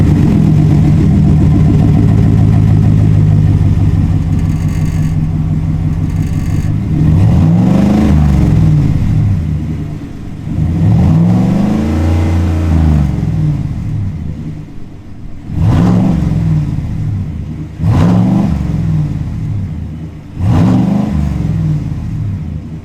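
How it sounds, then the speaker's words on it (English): A 2020 GMC Sierra pickup with an MBRP exhaust, AFE intake and tune revs repeatedly, starting from a loud steady idle and climbing through several sharp throttle blips in a row, each one deep and close. "Intake, exhaust, tune. AFE helped us with the tune and the intake, and the exhaust is the MBRP."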